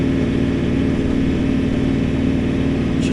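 A tractor engine drones steadily in low gear while pulling a disc across a field during brome grass seeding, a loud, even, continuous mechanical hum.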